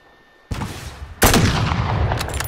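An RPG rocket launcher fires in the Warzone video game, a loud close boom followed by a second heavier blast and sustained roaring rumble with sharp cracks.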